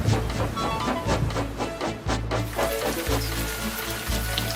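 Heavy rain downpour in a steady hiss with patters and splashes, backed by a repeating low rumble.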